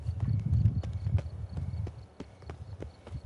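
Roach the horse galloping in The Witcher 3, with close, loud hoofbeats clattering in quick irregular bursts before easing into fainter, sparser clops.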